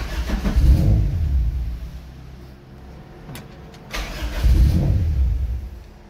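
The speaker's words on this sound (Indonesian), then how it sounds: "Ini mobilnya mau bapak nyalain." An injection car converted to run on LPG starting up, a cranking burst followed by the engine catching and revving, then settling before a second rising rev, close and loud.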